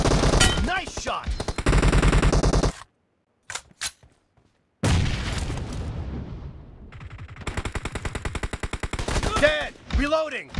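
Rapid automatic gunfire in the PUBG Mobile video game, loud and close, in sustained bursts with a brief silent gap and a few single shots, followed by another long burst.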